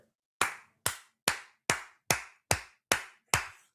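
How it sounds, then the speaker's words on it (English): Eight sharp, evenly spaced claps ring out one after another in a steady rhythm, each crisp and close with a short decay, from a single pair of hands rather than a crowd. "Let's give a round of applause for the basement."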